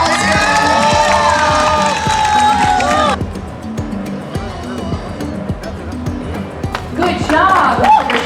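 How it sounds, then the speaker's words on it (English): Applause and cheering from a crowd at a pastry competition with sugar and chocolate showpieces, loud bursts of clapping and shouts mixed with a speaking voice and a tonal musical sound at the start. "Round of applause."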